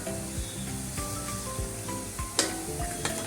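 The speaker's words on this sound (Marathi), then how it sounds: "कांदा भाजून घेऊया." Onion sautés in a pan for jowar noodles, a steady close sizzle broken by stirring scrapes, with faint tonal music running underneath.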